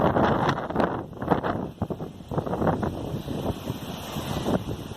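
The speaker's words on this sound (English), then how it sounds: "It's going to get windy." Gusty wind by rock pools on a wet sandy shore buffets the microphone in rough bursts, with broadband rumble rising and falling throughout; no voices.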